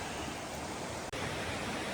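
Locust Creek in the Pennsylvania wilderness flows as a dense, constant rushing wash of water, loud and steady, with a brief dropout midway.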